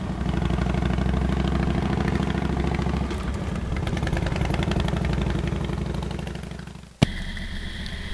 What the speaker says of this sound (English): You can hear the engine braking, the roll on, and the upshift to third with continued roll on.